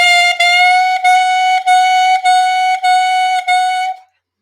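A clarinet holds one steady note broken by tonguing into a series of about seven separated, evenly spaced pulses, clear and close, then stops cleanly.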